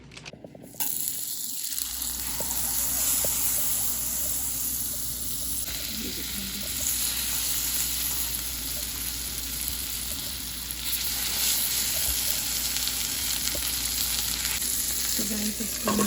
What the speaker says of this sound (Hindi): ये देखो मेरा रेडी हो चुका है स्टफ मशरूम। अब इसको हम करेंगे थोड़े से बटर में फ्राई।